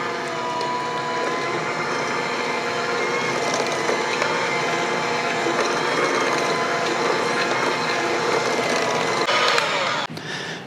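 A stand or hand mixer beats softened butter with brown and white sugar for cookie dough, a steady, continuous whirring hum that runs loud and unbroken for about ten seconds before cutting off near the end.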